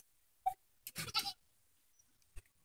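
A few short goat bleats, one brief call then a louder cluster a moment later, with quiet gaps and a faint thump at the end.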